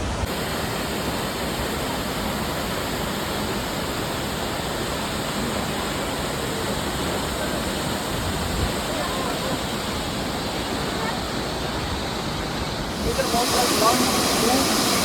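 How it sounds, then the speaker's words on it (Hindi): Tirupalli waterfall, also called Bahubali waterfall, near Munnar, with heavy water rushing and crashing in a dense, constant roar heard from close below the falls, growing brighter near the end. "तिरुपल्ली वाटरफॉल के नीचे आ चुके हैं,"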